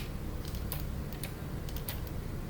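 Computer keyboard keys are pressed in a few quick clicks during 3D modeling in Blender, crisp taps close by over faint room noise.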